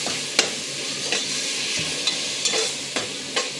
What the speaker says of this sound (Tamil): ஒரு கைப்பிடி கொத்தமல்லி, ஒரு கைப்பிடி புதினா எல்லாமே சேர்த்துக்கலாம். சேர்த்து நல்லா மிக்ஸ் பண்ணி கொடுக்கலாம்.